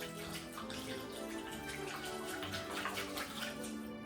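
A gallon of engine oil pours in a steady, gurgling liquid stream for several seconds while an engine is being broken in, close by but fairly soft, with no talking.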